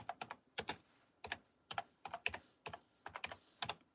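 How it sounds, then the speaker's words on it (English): Typing on a computer keyboard, a run of quick irregular key clicks in short bursts, close and clear with no talk. "Let's type that in, crop circles."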